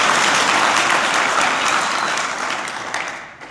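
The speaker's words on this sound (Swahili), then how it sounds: "Tujipigie makofi wote kwa pamoja." A crowd of Yanga supporters in Malawi claps together in a loud, dense burst of applause that holds steady and then tapers off near the end, without talk.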